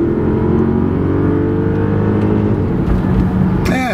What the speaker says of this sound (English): they give you a little bit of throttle noise inside. It's not bone quiet. You get some V8 sound.